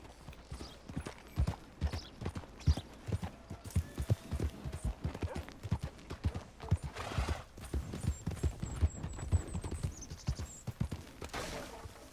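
A large horse's hooves clop in quick, uneven beats across the ground in Red Dead Redemption 2, fairly close and steady for the whole stretch, with soft creaks and a brief high tone near the end.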